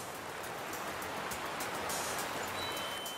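Rain falling on a coastline, a dense, even hiss of drops that stays steady and fairly loud throughout the short stretch, with no voices.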